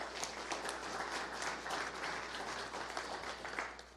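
An audience at a university athletics giving-week kickoff event breaks into a steady, dense round of applause, many hands clapping evenly for the full stretch with no voices standing out.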